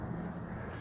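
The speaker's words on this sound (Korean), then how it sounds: "이게 비행기가 지나가고 있는데," Airplane passing overhead near Gimpo Airport, heard from a semi-basement home as a low, steady rumbling engine drone, fairly quiet and continuous through the brief moment.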